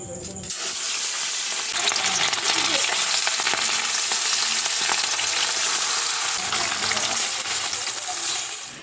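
Rohu fish pieces rubbed with salt and turmeric sizzle loudly and steadily in a hot pan of oil, a dense continuous frying hiss that fills the scene from start to finish with no talking.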